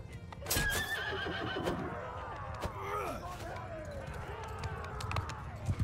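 A horse neighs and whinnies loudly during a video game battle, a sharp rising cry near the start that trails into rough snorts, set against clattering hooves, clashing combat and general battlefield noise.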